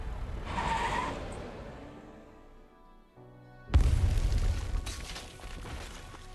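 A car driven hard and fast, with tires skidding and screeching: a rumbling engine and hiss at first, a brief quieter lull, then a sudden loud burst of broadband roar and scraping noise that carries on to the end.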